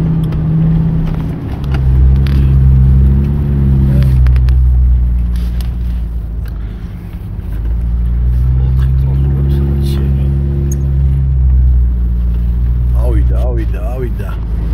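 A car driving through snowdrifts gives a loud, steady low engine rumble that swells and dips in pitch as it strains forward, with voices talking over it.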